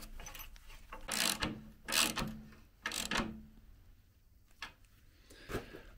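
Quiet ratcheting and clicking as an extender bolt is clamped down on a VW Beetle front beam, several short metallic bursts with pauses between them, close by and fairly faint.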